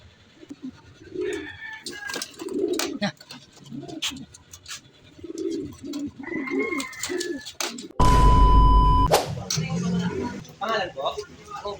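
Racing pigeons coo repeatedly nearby on race loading day, soft throaty calls scattered throughout, with people talking and a brief loud mechanical burst partway through.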